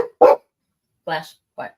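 A Belgian Malinois lets out a few sharp, close barks in quick succession, separated by short silences, as a person speaks briefly to the dog.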